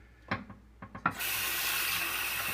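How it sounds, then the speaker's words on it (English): A kitchen faucet clicks and knocks a few times as the handle is worked, then tap water gushes out in a steady, close hiss that continues to the end. "Now I'll turn on the tap water here."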